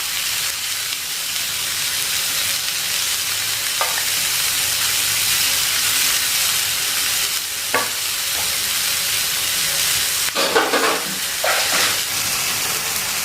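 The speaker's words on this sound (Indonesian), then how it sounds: "ini kita manggang cuminya nggak usah lama-lama ya" Jumbo squid with spicy seasoning grilling gives a loud, continuous close sizzle with occasional sharp crackles and pops, no voices.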